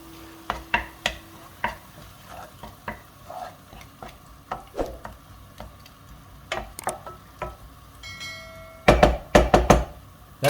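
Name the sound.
drained mushrooms added to pan, cooking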